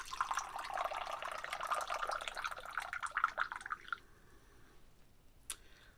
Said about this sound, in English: And then you're going to pour off the water.